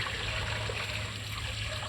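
A river's water flows as a steady, soft trickle and rush that continues evenly throughout, with no voices.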